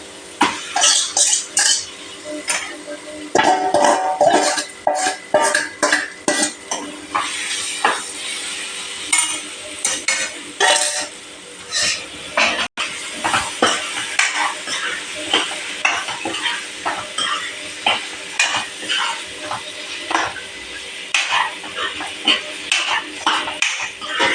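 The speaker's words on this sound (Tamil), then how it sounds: "இப்போ சிக்கனை இதில் போட்டுடலாம் ஃப்ரெண்ட்ஸ்." Chicken sizzles and fries in a pot for biryani while a metal spoon stirs and scrapes it in steady, repeated strokes, close and clear over a constant frying hiss.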